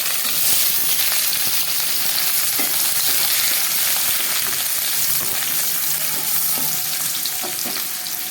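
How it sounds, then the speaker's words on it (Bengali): Vegetables fry in white oil in a wok with a constant, loud, dense sizzle throughout, with occasional soft stirring scrapes and no talking. "এখন আমি কড়াইতে সাদা তেল দিয়ে দেবো, দিয়ে সবজিগুলো একে একে ফ্রাই করে নেব।"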